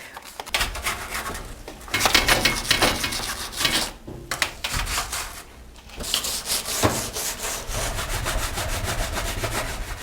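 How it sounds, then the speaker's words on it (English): Rhythmic back-and-forth scrubbing at baked-on residue inside a range oven, brisk rasping strokes in bursts with two short pauses, close and fairly loud, no talking. "we've probably spent 15, 20 minutes scrubbing all of this out of the inside of this range"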